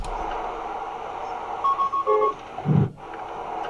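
Inside a Tesla, an Autopilot alert chime sounds as a short series of clear electronic tones followed by a lower tone, over a faint, steady cabin hum.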